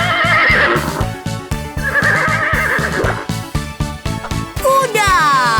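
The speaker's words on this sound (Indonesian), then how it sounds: "Kuda." A horse whinnies loudly over a bouncy children's music track with clip-clop rhythm, the neigh rising clearly near the end of the short passage.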